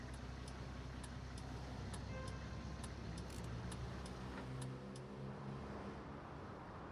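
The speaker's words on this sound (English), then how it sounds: "we'll just kind of swing the truck into here" A truck pulling in within the Farming Simulator 19 video game, a low steady engine rumble with faint ticking and rattling on top, quiet and continuous with no speech.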